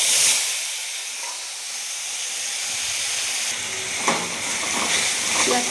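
Onion paste hits hot oil already seasoned with cardamom, cinnamon and cloves for a prawn malai curry, giving a loud, steady, close sizzling hiss that carries on throughout with slight crackles.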